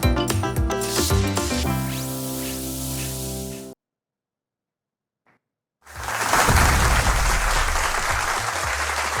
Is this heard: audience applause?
yes